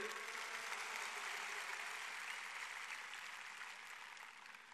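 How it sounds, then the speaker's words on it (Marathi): Faint, steady crowd clapping for students at a protest march at Azad Maidan, a dense distant wash of applause that slowly fades toward the end. "त्यांच्यासाठी एक मोठ्या टाळ्यांचा हात होऊन जाऊ देत"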